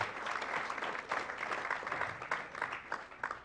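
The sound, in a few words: audience applause at a scholarship event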